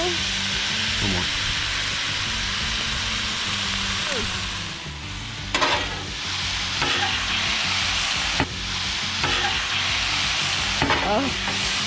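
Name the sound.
shredded buffalo chicken sizzling and stirred on Blackstone griddle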